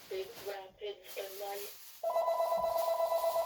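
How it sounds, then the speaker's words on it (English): A telephone rings with a steady electronic warble after a short stretch of speech, loud and close, continuing to the end under a brief voice. "Excuse the phone call."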